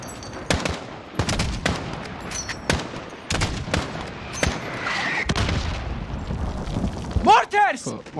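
Mortar and gunfire blasts in a Freedom Fighters video game battle: a rapid series of sharp, loud explosive cracks over a continuous rumble, with shouted voices breaking in near the end.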